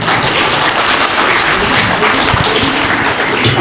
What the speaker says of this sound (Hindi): आपके सम्मान में एक बार ताली बजा दीजिए